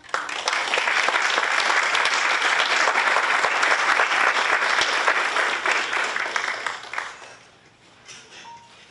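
Warm audience applause for honorees at a 2017 governor's public service recognition ceremony, a dense, steady round of clapping that carries for about seven seconds before tapering off into quiet.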